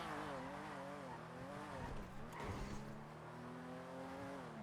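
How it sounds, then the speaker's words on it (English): A car engine in a GTA NoPixel driving game revs steadily with pitch shifts as it changes gears, loud and continuous, with some tire noise and a faint voice beneath. "It's so weird how this car is skipping those gears and still doesn't feel bad."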